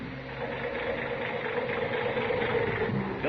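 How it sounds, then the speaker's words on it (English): Tired, worn-out car engine in an old radio drama, running at a steady rough idle with a continuous low hum and vibration, fairly close and constant throughout, no talking over it. "that engine of yours sounds like real tired iron"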